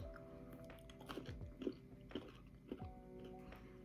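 A puffed-rice Milk Crunch chocolate bar is bitten and chewed close up, giving a series of quiet, crisp crunches in an irregular rhythm.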